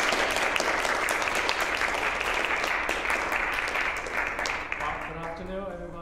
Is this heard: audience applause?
yes